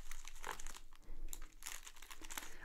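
Plastic packaging crinkles and crunches up close as scissors cut it, in a steady run of sharp rustles.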